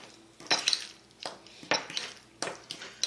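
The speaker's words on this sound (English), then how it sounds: "Mix that up. You want to keep mixing it up." A utensil scrapes and clinks rhythmically against a bowl while guacamole ingredients are mixed, with four or five firm strokes spaced roughly evenly, close and fairly quiet.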